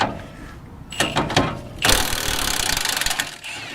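A mechanic uses an impact wrench to work a stubborn, heated cotter pin free from a wheel hub, with a couple of short rattling bursts followed by a longer, loud, pulsing mechanical chatter, close up.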